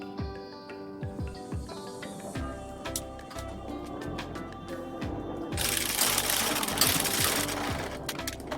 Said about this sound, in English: I will now go ahead and stitch the lining and the outer fabric together on the stitch line